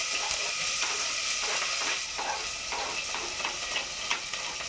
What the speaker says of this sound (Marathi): प्रथम आपण याच्यामध्ये बारीक चिरलेला कांदा टाकून परतून घ्यायचा आहे.